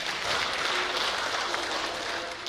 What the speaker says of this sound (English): So please give applause for them.